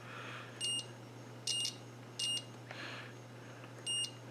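Multimeter continuity beeper chirping on solder joints of a ham radio end-fed antenna kit, five short, faint electronic beeps at uneven intervals over a low background hum.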